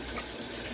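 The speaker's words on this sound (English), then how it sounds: "Wash off your hands." Water runs steadily from a tap as hands are rinsed clean after mixing peanut butter carp and catfish bait, a brief continuous splashing hiss with no talking.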